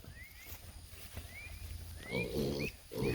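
Farm pigs grunt in low, rough bursts, with a few louder, more tonal grunts near the end; the sound is close and moderately quiet.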